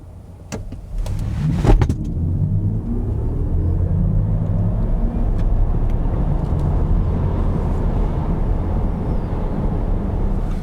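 An Audi Q6 e-tron quattro in dynamic mode pulls away at full throttle, a few clicks at the start giving way to a steady, loud rumbling road and motor drone heard from inside the cabin, with no talk.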